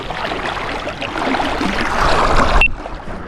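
Gusty wind roars steadily across the microphone beside a Scottish salmon river during fly fishing, a loud broadband rush that swells then drops away abruptly near the end.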